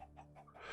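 Roosters cluck in the video game TerraFirmaCraft, a short burst of several quick clucks, faint and close, with no talk over them.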